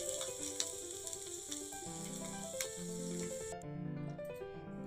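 Whole spices fry in a pan for a tomato masala curry, a soft, fairly quiet sizzle with faint stirring under a low tonal hum that cuts away in the final second.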